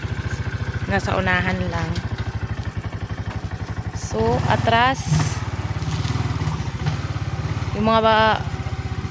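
A motorcycle engine idles and putters steadily close by, ridden toward a crab-gathering spot, under people talking in Tagalog.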